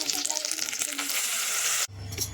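Green pea paste frying in oil in a kadai for kachori filling, a loud continuous sizzle with a stirring clatter that drops sharply near the end to a quieter, lower bubbling.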